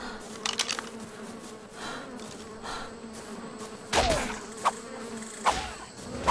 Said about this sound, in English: Bugs behind you.